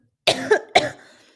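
Two close, raspy coughs in quick succession, the second trailing off into a breathy rasp, fairly near and alone.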